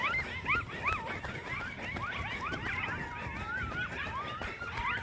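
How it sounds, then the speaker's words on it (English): A pack of coyotes howling and yipping frantically in the distance, overlapping wavering cries sliding up and down in pitch, continuous and chaotic for the whole stretch, with no talking. "there's a bunch of coyotes going crazy."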